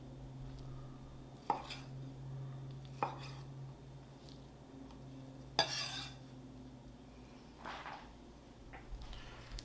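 A knife chops thinly sliced steak for cheesesteak on a board with a handful of sharp, separate thunks spaced a second or two apart over a low background hum.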